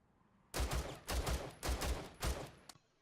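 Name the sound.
gunfire from Rainbow Six Siege video game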